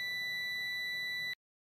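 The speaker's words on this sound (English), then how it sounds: "The multimeter is adjusted to the beep gear." A multimeter set to continuity mode gives one steady, piercing high-pitched beep, close and clear, lasting just over a second before cutting off abruptly to silence, while an Avalonminer test fixture is wired up.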